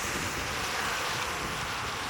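Wind roars across the microphone at Palavakkam beach, a loud, constant broadband rush blended with surf.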